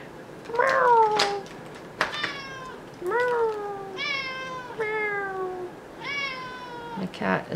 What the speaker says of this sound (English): My cat is very upset that I'm not paying attention to him right now.